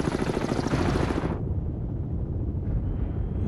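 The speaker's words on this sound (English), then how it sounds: "Oh wait, no, there's the helicopter." A helicopter in the submarine video game Cold Waters throbs with a loud rhythmic rotor chop that abruptly drops to a duller, lower thumping.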